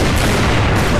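A gun in a mobile FPS video game fires in a loud, dense, booming blast of gunfire that fills the whole moment without pause.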